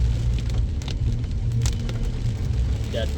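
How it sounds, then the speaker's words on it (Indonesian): Heavy rain pours across Makassar city near a mall area, a dense continuous roar on wet surfaces with low traffic rumble underneath and faint voices now and then. "Hujan merata ya teman-teman"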